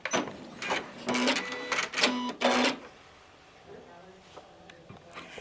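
A Janome 9480 computerized sewing machine starts stitching in several rapid mechanical bursts, fairly close and moderately loud, then falls to a quiet hum as a voice is heard faintly.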